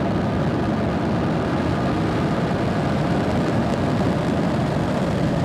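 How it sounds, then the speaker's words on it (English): A SpaceX Falcon 9 rocket at liftoff on a commercial GTO mission gives off a loud, continuous, broadband roar, a steady rumble with no break and no voices. "Ignition, engines full power, and liftoff."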